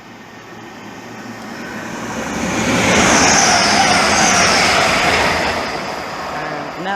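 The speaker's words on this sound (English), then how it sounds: "getting ready to pass by is 1 Alpha 92, the 1043 Hull train service from Hull to London King's Cross" A Hull Trains passenger service bound for London King's Cross passes through Hitchin on the East Coast Main Line, its roar building to a loud peak mid-pass and then easing away.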